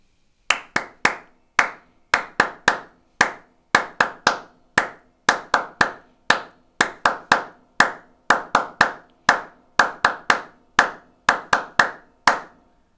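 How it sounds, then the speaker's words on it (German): One person claps out the Herta drum rhythm by hand, with sharp dry claps in repeating short groups and brief gaps between them. The steady pattern is close and alone. "Der Rhythmus geklatscht klingt dann folgendermaßen."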